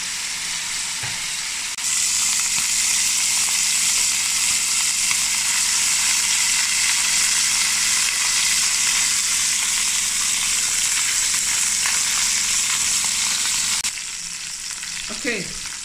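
Oxtail browns in a hot pan with a loud, dense, continuous sizzle that swells after a couple of seconds and holds steady. It drops off near the end as a utensil knocks the pan.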